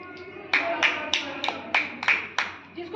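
A child claps hands in a classroom game, about eight sharp claps in a steady, fairly quick rhythm, moderately close over a faint background murmur of voices.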